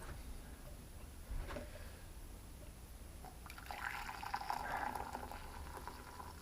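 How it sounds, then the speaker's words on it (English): Hot water, boiled on a spirit stove, pours steadily into a jug, a soft gurgling stream under low background hiss, quiet and close. "let's pour it into a jug"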